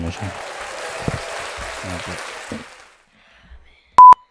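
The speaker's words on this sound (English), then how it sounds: "Clap it up for Jazz, clap it up for Jazz" A small podcast studio group claps for a returning guest for about three seconds, with voices talking over the clapping. The applause then stops into near silence, followed by two short electronic beeps.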